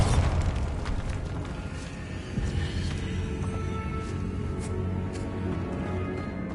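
A Bombarda spell goes off in a Harry Potter video game, a dense rumbling boom that rolls on for several seconds with a second swell midway, with no voices over it.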